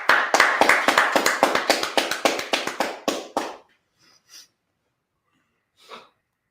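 A congregation at a Sabbath service claps hands in a fast, steady run of loud claps lasting about three seconds, then stops, leaving near silence with a couple of faint stray noises.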